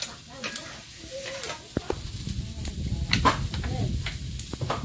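Dried red chillies crackle and sizzle as they temper in hot oil in a home kitchen, with a steady frying hiss and occasional pops, accompanied by faint voice-like or melodic tones in the background.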